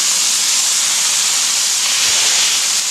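Onion smash burgers sizzle on a hot griddle with a loud, steady, close hiss that fills the whole stretch without a break.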